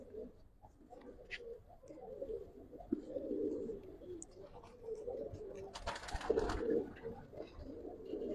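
Giribaz pigeons, a Bengali flying breed, cooing in soft repeated low calls amid a busy loft, with other birds chirping and faint background noise throughout.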